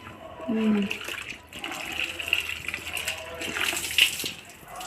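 Tap water runs and splashes over dishes being washed by hand, a gushing, uneven stream with clinks, while people talk over it.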